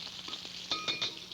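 Minced garlic and ginger hit two tablespoons of hot vegetable oil in a wok, giving a brief, quiet crackling sizzle with a few sharper pops toward the end and no talk.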